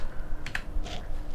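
A few quick, soft key presses on a computer keyboard, a short cluster of clicks at close range in a quiet room.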